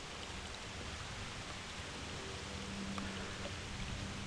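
Rain falls steadily on a small creek, a dense, even hiss of drops on water and ground with no voices and no other clear sounds.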